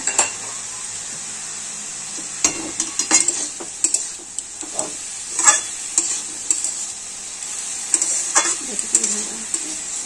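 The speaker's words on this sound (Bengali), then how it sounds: "এবার এটাকে ভালো করে ভেজে নেব।" Soft sizzle of banana stem frying in a pan, broken by repeated scraping and clinking of a spatula stirring against metal.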